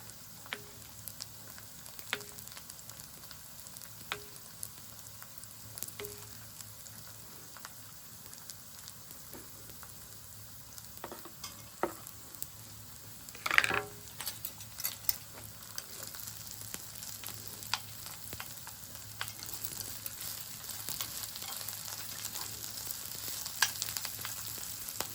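Smoked hickory breakfast sausage fries in a pan at a campsite, a steady soft sizzle with scattered pops and crackles and occasional clatters, heard close and fairly quiet with no talking.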